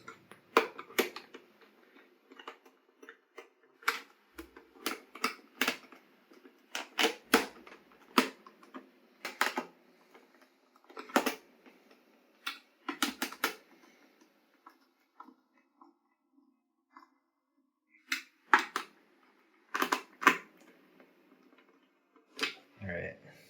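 Small screws are driven back into the metal casing of an RCA DRC-277A DVD player, giving sharp irregular ticks and clicks in short bursts separated by quiet pauses.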